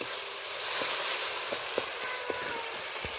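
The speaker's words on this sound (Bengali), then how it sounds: "এই পর্যায়ে আমি একেবারে অল্প জল দিয়ে দিলাম।" A small splash of water goes into a hot pan of dry spices for a hilsa head and water lily stem dish, raising a moderate, steady sizzle punctuated by a few light taps from stirring.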